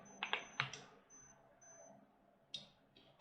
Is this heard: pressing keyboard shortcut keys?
yes